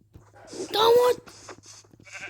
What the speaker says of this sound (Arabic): هاي خروفين.